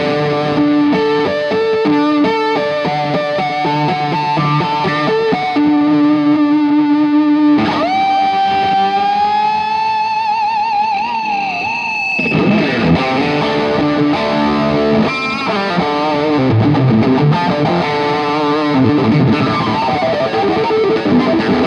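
An electric guitar runs through a Realtube distortion pedal, loud and saturated, moving from sustained held notes into busier chord and lead passages with no talking.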